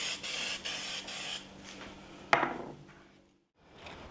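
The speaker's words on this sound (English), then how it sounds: "I'm going to be using olive oil, but I've put it in one of these little sprayers" Several short hissing spritzes of olive oil from a small handheld sprayer over salted shrimp before grilling, a quick run of close bursts followed by a sharper tap and fading rustle.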